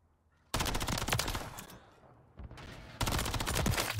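Rapid automatic gunfire in the video game Call of Duty MW3, with loud dense bursts, a short quieter gap, and then another sustained volley.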